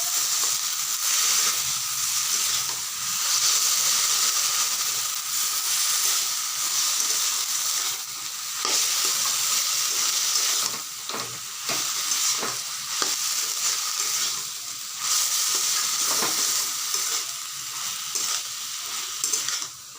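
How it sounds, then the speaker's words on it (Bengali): Taro pieces with turmeric powder are stirred in a hot frying pan, giving a steady close sizzle and hiss broken by repeated scraping strokes of the spoon, with no voices. "নাড়াচাড়া করতে হবে।"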